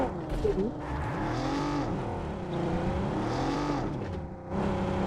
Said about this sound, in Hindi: अरे अरे, ये कैसा ड्रिफ्ट हो रही है गाड़ी?